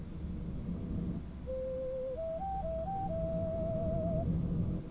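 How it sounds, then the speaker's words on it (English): Birds chirping a specific whistled tune in a video game, a thin melodic line of sustained pure notes stepping up and down over a steady low rumbling background. "That is the sound of birds chirping to a very specific tune"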